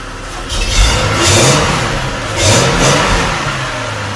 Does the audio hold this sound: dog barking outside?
no